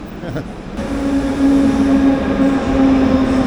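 Train at a station platform, a steady rumbling drone with a sustained squealing tone rising in after a moment, fairly close and continuous.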